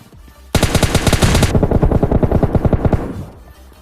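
Automatic gunfire in a battle royale video game: a dense, loud rapid burst, then a steady run of evenly spaced shots for about two seconds before it cuts off, with no talk.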